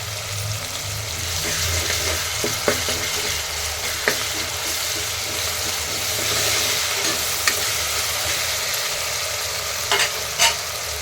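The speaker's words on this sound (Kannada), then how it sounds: "ಈಗ ಶುಂಠಿ ಬೆಳ್ಳುಳ್ಳಿ ಪೇಸ್ಟ್ ಹಾಕ್ತೀನಿ" Ginger garlic paste sizzles steadily in a pressure cooker while vangi bath is cooked, with a constant frying hiss and occasional clicks and scrapes from stirring.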